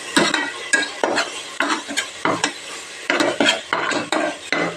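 Dal lentils fry in a pan under a spoon stirring in quick, rhythmic strokes, about a dozen scraping sweeps close up over a light sizzle, with no speech.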